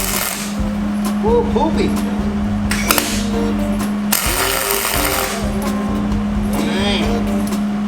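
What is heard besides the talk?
welding hinges onto a hotrod car body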